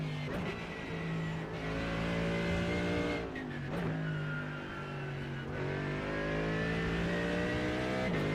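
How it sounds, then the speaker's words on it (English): Porsche race car flying past at Suzuka in a racing video game, a loud sustained engine whine that rises and falls in pitch, with brief sharp drops as it shifts or brakes. "Watch this Porsche come flying in there"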